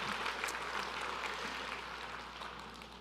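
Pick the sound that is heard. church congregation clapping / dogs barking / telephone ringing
church congregation clapping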